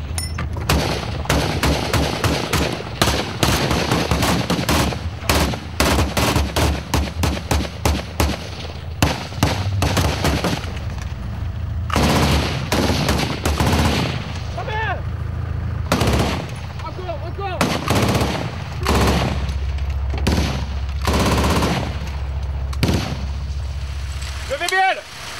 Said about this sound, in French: Soudain, un coup de feu est tiré dans leur direction.